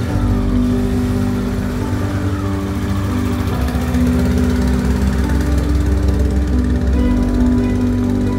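A bike engine idling steadily and loudly up close, a constant droning hum with no revving or breaks, no voices over it.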